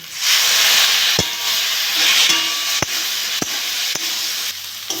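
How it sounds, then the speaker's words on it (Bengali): Tilapia fish with potatoes and okra sautéing in a pan after a splash of water, giving a loud steamy hiss and sizzle close up, broken by a few sharp clanks of a spatula against the pan. "আমি একটু সামান্য একটু জল দিয়ে কষে নেব।"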